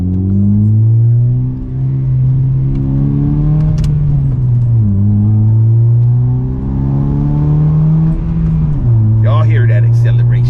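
A loud Honda motorcycle engine with loud exhaust revs and holds a steady drone with pitch swells, rising and dropping through gear-like shifts, close by and continuous.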